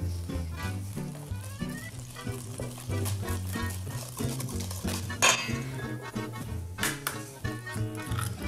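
Eggs and yolks are mixed into burnt Basque cheesecake batter with quick, rhythmic scraping and clinking in a bowl, a few sharper knocks standing out, close and steady with no talking.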